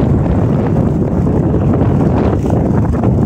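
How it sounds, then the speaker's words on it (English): Strong winter wind sweeps snow across open fields near windmills, a steady roaring rush buffeting the microphone without pause. "the wind's blowing so hard, just picking up the snow and blowing it everywhere"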